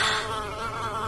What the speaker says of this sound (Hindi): मधुमक्खी बार बार आकर नताशा के कान के पास आकर गुनगुन की आवाज कर रही थी।